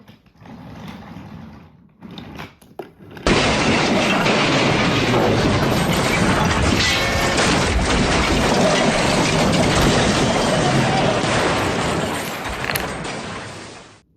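A toy train crashes and derails in the snow, giving a sudden dense burst of rattling, clattering mechanical noise after a few quieter seconds, loud and continuous until it tapers off near the end.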